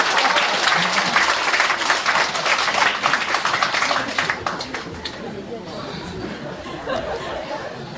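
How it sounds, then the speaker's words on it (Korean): A concert audience at a live rock show gives loud, sustained applause that tapers into scattered clapping, with chatter and chuckles in the crowd. "이거 박수라고."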